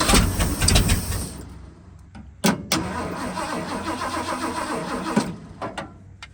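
An abandoned Ford F350 truck with a bottle-fed carburetor cranks as its starter solenoid is crossed, giving a loud, close, continuous grinding churn with a couple of sharp clunks partway through.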